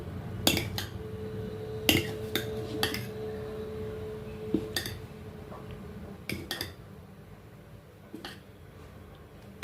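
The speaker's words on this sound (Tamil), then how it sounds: "ஒரு பிளேட் போட்டு மூடிடலாம்." A plate set over a cooking pot as a lid in a home kitchen, giving several sharp, close metallic clinks and clatters spread across a quiet background.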